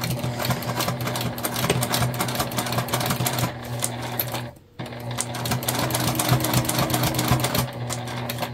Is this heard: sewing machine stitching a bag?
yes